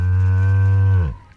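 A single long, loud cow moo from the video game Fallout: New Vegas, steady and close, fading out abruptly near the end with no talk over it.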